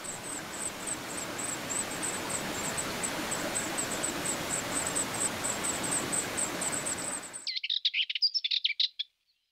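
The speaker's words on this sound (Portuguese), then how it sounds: "a alvéola cinzenta vai saciando o apetite à sua jovem descendência" A grey wagtail gives repeated high, thin calls while feeding its young beside a river, at first under a steady hiss of rushing water, then clear and close in a short burst once the water noise drops away.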